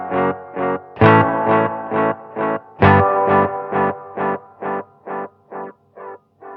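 Guitar run through a UAFX Galaxy '74 reverb and tape echo pedal, a steady series of about fourteen evenly spaced distorted chord stabs with a wide reverb wash and echo trailing each hit, played alone.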